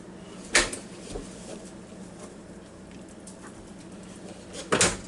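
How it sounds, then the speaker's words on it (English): The door of an Emeril Lagasse Air Fryer Pro shuts with a close, firm clack, followed by a fainter knock and then a second sharp clunk a few seconds later over quiet room tone. "I'm going to shut the door on it."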